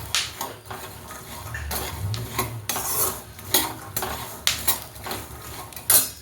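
Peanuts roast in a pan of hot salt for a bakery-style dried snack while being stirred, giving gritty rasping scrapes and rattling clinks in irregular bursts, close up with no voices.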